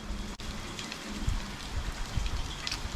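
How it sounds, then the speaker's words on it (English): Torrential rain pours down in a dense, close hiss, with heavier drops and splashes thumping on a surface throughout and a brief sharp knock near the start; no talking. "Flood warnings, torrential rain."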